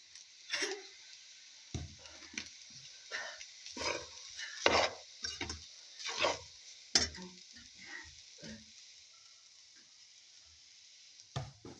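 Soy sauce poured into a hot frying pan for a Filipino tosilog breakfast, with bursts of sizzling and stirring scrapes in uneven close pulses, fading near the end.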